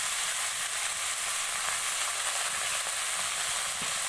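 Cabbage and onion fry in a pan with a constant, close crackling sizzle and light stirring, steady throughout with no speech.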